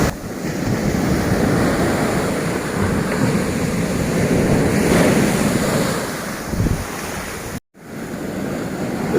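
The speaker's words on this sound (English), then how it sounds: "the waves, they're coming up to the front of this old motel" Storm waves surge and crash continuously up an eroded beach on Koh Samui, a loud, close, roaring wash of surf mixed with gusting wind buffeting the microphone, with a brief dropout near the end.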